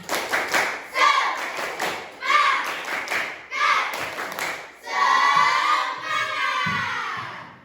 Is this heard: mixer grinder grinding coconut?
no